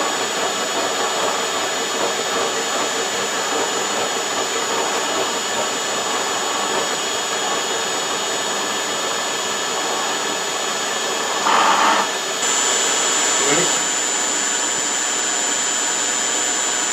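A machine cuts splines at 112 RPM with a 1.2 inch per minute feed, giving a steady, even whirring hum with a constant high tone, unbroken for the whole stretch apart from a brief louder patch late on.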